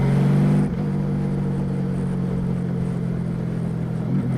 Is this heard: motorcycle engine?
yes